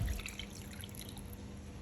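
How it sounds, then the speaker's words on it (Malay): Water poured into a Thermomix bowl holding pieces of meat for mandi rice, a soft continuous trickle and dripping at low level, heard alone. "Sekarang masukkan air sehingga ke paras maksimum."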